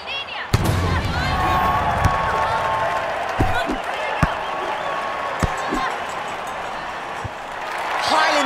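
Crowd noise at a beach volleyball finals match in the London 2012 Olympic video game: a steady, loud wash of cheering with sharp claps and thumps scattered throughout, swelling again near the end.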